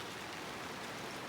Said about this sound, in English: let you guys know that we're getting rain